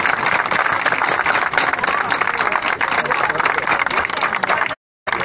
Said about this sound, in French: je vous demande de l'applaudir avec toute l'intensité possible